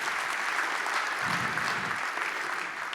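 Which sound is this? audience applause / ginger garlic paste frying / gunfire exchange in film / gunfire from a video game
audience applause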